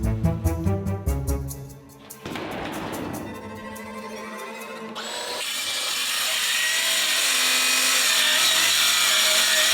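A power saw cuts plywood for shelves: rhythmic rattling at first, then a brief rough grinding burst, followed by a rising, sustained high whine as the blade bites through the sheet, loud and close.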